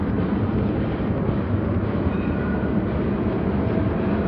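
A train on the Jerusalem line rumbles past nearby, a loud continuous roar of rail noise with no voices.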